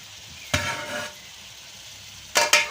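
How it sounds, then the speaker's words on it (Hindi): Potatoes with spices and bell pepper are stirred in a frying pan, giving a few brief scraping, sizzling strokes close up over a quiet background. "अच्छी तरह आलूओं को मिक्स करना मसाले में, शिमला मिर्च में, ताकि मसाला आलूओं में मिक्स हो जाए।"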